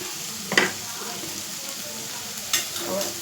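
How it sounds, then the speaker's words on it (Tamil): Vegetables sautéing in a pan with a steady sizzle, punctuated by a couple of scraping stirs, close by. "பச்சை வாடை போகிற வரைக்கும் கொஞ்சம் அது அப்படியே வதங்கி வரட்டும்."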